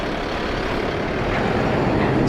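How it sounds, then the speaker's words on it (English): A truck rumbles past at a street corner by the Dakota building in New York City, a loud, steady low engine roar that swells slightly toward the end, with no talk over it. "some truck wants to go around the corner from me"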